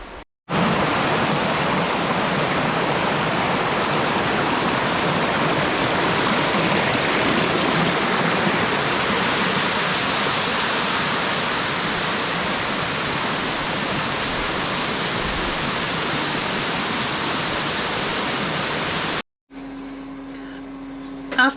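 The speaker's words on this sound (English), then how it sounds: "Now the wind's going to pick up again." Wind rushes steadily under a rock ledge in Litchfield National Park, a dense, loud, continuous roar with no breaks for most of the stretch, then cuts off abruptly near the end.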